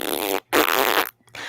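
A human voice imitates a dog's fart with two loud, close, buzzy blasts, the second longer, followed by a faint short trailing sound.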